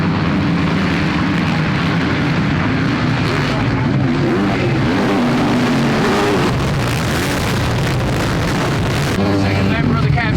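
A Husqvarna FC450 motocross bike engine runs at a British motocross race at Foxhills, a loud, close, continuous roar whose pitch shifts as the throttle varies, with some wind noise.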